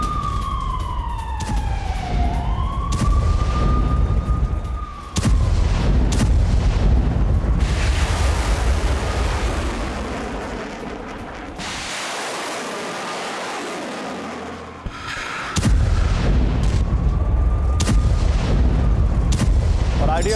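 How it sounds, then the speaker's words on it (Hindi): Blasts from a night bombing of Gaza, loud booming rumbles and sharp cracks mixed with rising and falling siren wails, a brief drop to near quiet partway through, then heavy roaring noise returns. "गाजा में बैक टू बैक 7 धमाके हुए"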